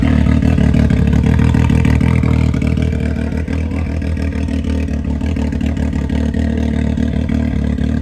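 Loud, continuous engine roar with rough mechanical clatter from a Can-Am X3 side-by-side with an exhaust cutout, steady throughout with slight dips, like revving loudly through an open exhaust.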